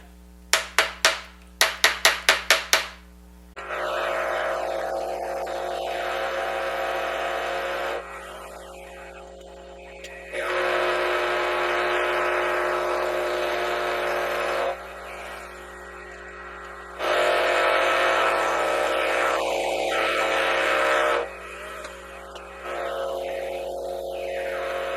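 Power hammer pounding hot steel in a tong die on a blacksmith's forge: a quick run of sharp, evenly spaced impacts opens the clip, followed by long stretches of loud sustained machine drone rising and falling in separate bursts, with no voices.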